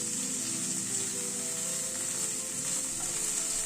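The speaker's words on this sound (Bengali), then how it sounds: "চানাটাকে দিয়ে একটু নাড়াচাড়া করে নিচ্ছি।" Boiled chickpeas frying in a pan, giving a steady bright sizzle throughout while being stirred, with a low rumbling undertone and no voices.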